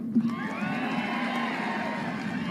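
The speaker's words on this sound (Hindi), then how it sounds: "ये अभी आप ताली जल्दी बजा गए" A large crowd at a political rally cheers and whoops loudly in a sustained, dense roar of many voices, with a sharp shout at the start and no individual speech.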